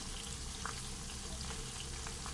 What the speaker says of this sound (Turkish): Kızartma zamanı.